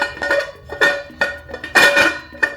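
A few sharp plastic clicks and clacks, close by, in uneven bursts as a tumbler lid is pressed and snapped shut.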